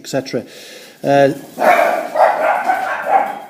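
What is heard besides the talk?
dogs barking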